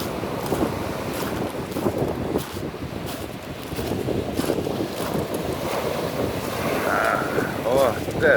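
Stormy sea waves crash and churn along the Konyaalti embankment in Antalya, with loud, continuous wind buffeting the microphone and surf rolling in steadily.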